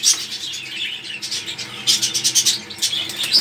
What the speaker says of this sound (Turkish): Kümeste kuşlardan yer kalmadı artık